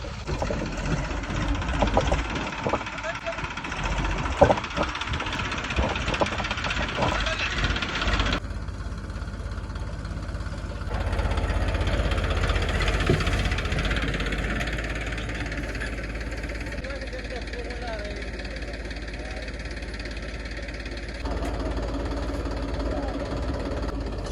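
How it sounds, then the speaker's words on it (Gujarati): A farm tractor's engine starts and settles into a steady, loud low idle, with rough clattering and handling noise early on, shifting engine tone as it runs, and no speech over it. "હું ટ્રેક્ટર ચાલુ કરું"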